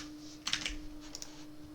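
A few quick keystrokes on a computer keyboard while Python code is written, soft and close over a faint steady hum, with no talking.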